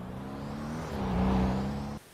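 Oakura 300 RS car being driven, a steady close engine drone with a whirring hum that swells midway and then cuts off abruptly near the end.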